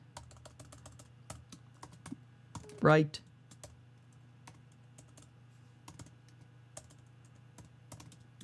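Computer keyboard typing during a live stream, scattered close key clicks in an irregular rhythm across the whole stretch, with one short burst of a voice partway through.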